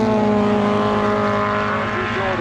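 Race cars howl past on the Goodwood Motor Circuit, a loud, sustained engine roar with steady high-pitched tones, close and continuous over the brief stretch.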